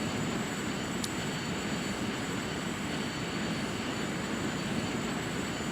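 A Lockheed T-33 Shooting Star jet trainer roars in flight with a steady, dense broadband rush and a thin high whine running throughout. One tiny click sounds early on, and no voices are heard.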